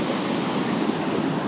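Big ocean waves, around fifteen feet, breaking at El Porto beach in Manhattan Beach near a refinery: a loud, continuous roaring surf wash with wind buffeting the microphone, no speech.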